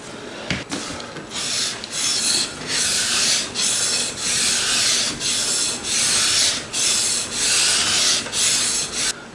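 Rhythmic back-and-forth sanding on a worn, filled fretboard of an Avon Marauder guitar, with steady rasping strokes repeating about every half second, close and alone.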